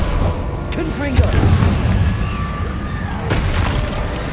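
A Confringo blasting curse explodes in the Hogwarts Legacy game with a booming, cracking burst. Repeated impacts and crackles follow under a spoken spell shout and the continuous noise of a busy fight.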